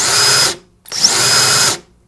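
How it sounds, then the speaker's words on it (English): A Fein 12V brushless four-speed drill screwdriver motor whirs up twice in close succession, each run starting at medium speed and quickly rising to full, loud and close with a brief pause between. "Just notice how the motor ramps up each time I press the trigger."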